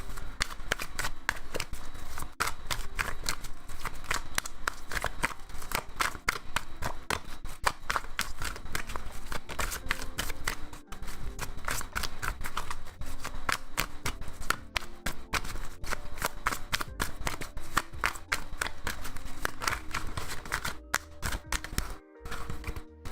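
Tarot cards shuffled by hand in a long run of rapid papery riffles and taps, close and crisp, with brief pauses near the end.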